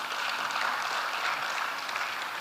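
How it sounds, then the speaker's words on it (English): Steady applause from an audience at a Ghana digital and innovation week event, a continuous even wash of clapping throughout with no pauses. "Please, a huge round of applause to them."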